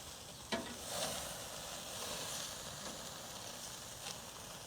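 Food sizzling on an outdoor grill, a steady soft frying hiss with a few faint clicks and pops, heard fairly quietly and alone.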